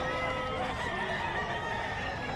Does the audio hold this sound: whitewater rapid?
no